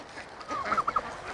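Farmyard poultry such as guinea fowl, turkeys, chickens, ducks and geese, with a short run of three or four honking calls from a goose-like bird, moderately close over a low background hum.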